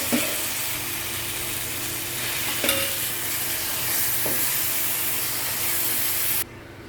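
Boiled moong dal is stirred into a sizzling fry of tomato and fenugreek leaves in a pan. A spoon scrapes and clinks close by over steady frying hiss, and the sizzle drops away at the end, with no talk.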